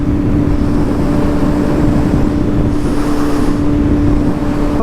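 Heavy, steady wind rush buffets the rider on a Suzuki GSX-S 750 motorcycle at speed, loud and constant with a low engine drone underneath, even behind the small windscreen.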